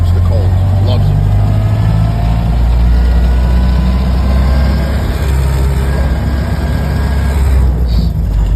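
A Ford Model A engine drones steadily while the car drives in third gear on a mountain road, loud and close with heavy low rumble and road noise, and someone talks over it.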